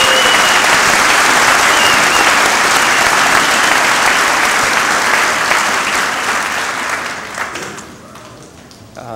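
Applause for the custodial crew at a high school commencement, a loud, dense burst of clapping from a large audience that holds steady, then fades out toward the end.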